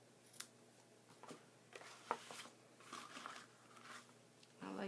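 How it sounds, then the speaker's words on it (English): Scissors snip through ribbon in a run of quiet, irregular cuts over a steady low hum, with faint crinkling between the snips. "Cut this a little bit."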